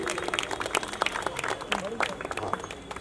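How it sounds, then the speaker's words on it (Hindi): Seminar audience clapping as a guest is called on stage at a railway jobs event, a scattered, uneven patter of claps with distinct individual hits, fairly faint and roomy, with some talk mixed in. "ताली होनी चाहिए"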